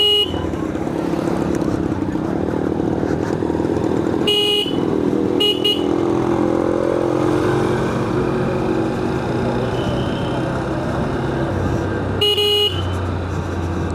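Steady engine rumble and wind rush from riding a Honda Hornet 2.0 motorcycle through road traffic, with a few short horn toots from nearby vehicles.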